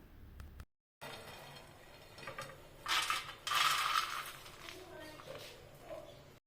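Low-heat roasted peanuts being tipped and scraped from one cooking pot into another make a rough, clattering metallic rattle that swells for a couple of seconds, heard close up with a voice speaking in the background.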